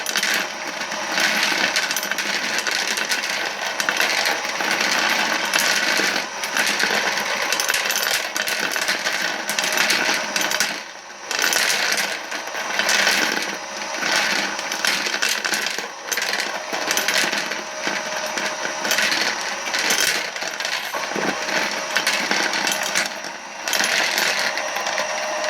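A Hornady Lock N Load bullet feeder drops bullets in a busy, continuous metallic clatter of small clinks and rattles, loud and close, with brief lulls and no talk.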